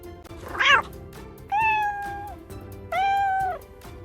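A kitten meows three times, a short first call followed by two longer, drawn-out meows, close and clear.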